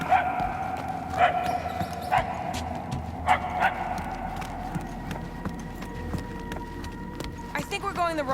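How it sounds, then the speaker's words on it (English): A dog barking in the distance in the video game Guardians of the Galaxy: a few faint, spaced barks under ambient game sound and background music, with voices talking. "The barks are getting louder at least."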